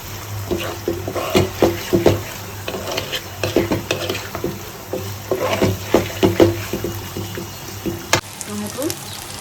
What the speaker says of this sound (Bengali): এখন চিংড়ি মাছটা দিয়ে দিলাম।